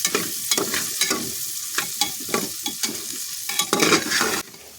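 Boiled, squeezed soya chunks frying in a pan for khichdi, stirred with repeated scraping strokes over a steady sizzle, close and fairly loud, no voices.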